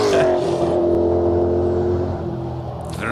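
A race car at the Simola hill climb screams past close by, its engine note holding high and then dropping away as it speeds off, loud and alone.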